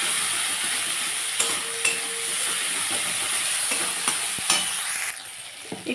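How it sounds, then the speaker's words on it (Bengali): A spice paste sautéed in a pan for a vegetarian kochu shaak dish, producing a loud, constant sizzle and hiss with scraping stirring strokes, heard close up without any talk. "মশলাটা কষিয়ে নেব"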